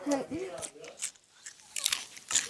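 Someone bites into hard food, producing a few loud crunching bites in quick succession between short pauses, close to the microphone.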